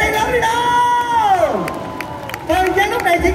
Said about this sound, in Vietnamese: Vỗ tay lớn đi